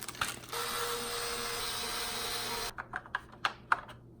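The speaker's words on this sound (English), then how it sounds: "we're gonna go ahead and close the wire clamp and the receiver box" The wire clamp and receiver box on an X-Maxx RC truck are closed with a short run of plastic clicking, a steady buzzing hum, then several sharp snaps and clicks close by.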